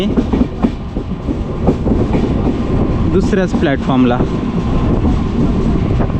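A Konkan Railway train rumbles past at a station in Sindhudurg, a loud continuous rolling roar with rail clatter, while people talk close by over the noise.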